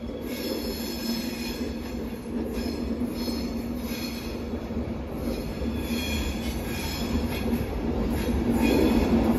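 LNER train 91101 with driving van 82211 pulls out of Platform 2 at London King's Cross, a steady rolling rumble with wheel squeal and clicking rail joints, growing louder as it moves off, with no talking.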